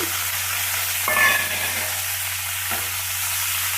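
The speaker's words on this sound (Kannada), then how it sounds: "ಕೈ ಆಡಿಸ್ತಾ ಇರ್ಬೇಕು ಹಿಂಗೆ ಮೇಲೆ ಕೆಳಗೆ ಮೇಲೆ ಕೆಳಗೆ ಮಾಡ್ತಾ ಇದ್ರೆ ಚೆನ್ನಾಗಿ ಮೆತ್ತಗಾಗುತ್ತೆ" Greens and cumin sizzle steadily in a pan while being stirred, with a continuous frying hiss and a couple of scraping stirs.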